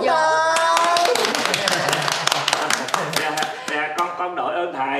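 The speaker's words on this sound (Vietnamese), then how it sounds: "Vỗ tay." A small group claps hands in a quick, uneven burst of sharp, close slaps, starting over a voice and then continuing alone until it thins out.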